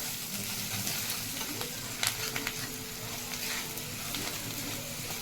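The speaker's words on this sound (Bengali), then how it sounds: "নুন দিলাম এবার নেড়ে নিচ্ছি ভালো করে" Salted food frying in a pan as it is stirred, a steady close sizzle with a brief cluster of scraping clatter midway, then the even hiss carries on without speech.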